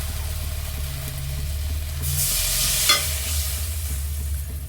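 Tengra fish curry with about a cup of water just added is stirred in a pan, making a soft bubbling sizzle with scraping strokes over a steady low stove hum, swelling briefly midway.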